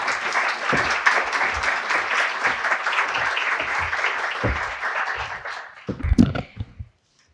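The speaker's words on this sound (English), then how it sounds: "Please give her a round of applause." An audience at a civil defence talk gives a warm, steady round of applause that fades toward the end, closing with a few isolated claps and brief shuffling.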